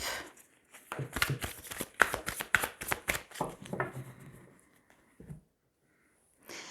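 A deck of tarot cards is cut and shuffled up close in a rapid run of crisp, papery riffles and taps lasting several seconds, then it tapers off into near silence.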